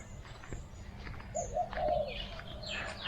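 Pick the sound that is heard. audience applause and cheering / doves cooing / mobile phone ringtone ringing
doves cooing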